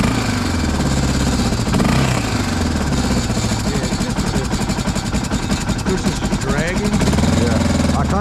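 A worn, beaten-up Suzuki DR650 motorcycle engine runs close and loud, a throbbing single-cylinder idle with clattering and throttle blips rising and falling, and voices talking over it.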